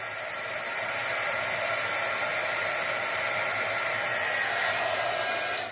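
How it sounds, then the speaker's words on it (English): A pen-type heat gun blows hot air in a steady, close, hissing whoosh that starts abruptly and holds evenly for several seconds during an electronics board repair, no one speaking. "it is a pen-type heat gun, so I'm going to be able to really get the heat concentrated on there"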